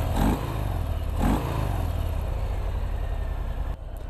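A 2018 Harley-Davidson Breakout motorcycle engine rumbles loudly and close, with two brief revs near the start settling into a steady heavy idle before cutting off abruptly near the end.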